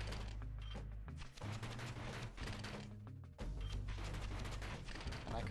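Gunfire in the action game Bastion, a dense run of rapid shots and impacts over steady game music and rumble, loud and continuous with brief dips.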